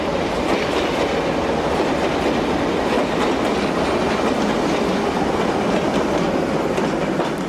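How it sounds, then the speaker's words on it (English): Alco diesel locomotive hauling a local passenger train in from Setúbal on the Portuguese railway, loud and close, with a steady rhythmic clickety-clack of wheels over rail joints under the engine's rumble. "Here another Alco brings in a local from Setúbal."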